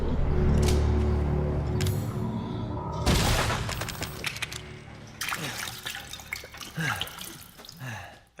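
Bombs exploding in Resident Evil 7 on Madhouse difficulty, a few sharp blasts followed by crackling debris, trickling and scattered impacts, moderately loud with gaps between bursts.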